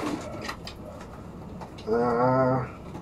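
A blue red-bar pigeon gives one close, low, throaty coo lasting under a second, set against faint background rustling and light clatter.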